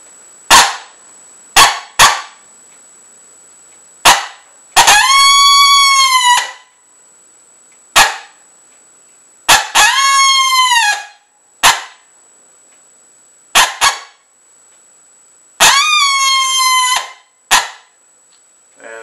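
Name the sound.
challenge howl blown on handmade brass call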